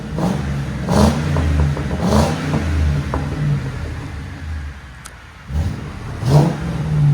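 2008 Ford Crown Victoria Police Interceptor with a 4.6L V8 and Carven TR-Series muffler, revving in several loud bursts over a deep, steady exhaust rumble, with a brief lull near the end before a final rev.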